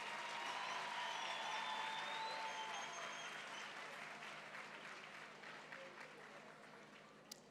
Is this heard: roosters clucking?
no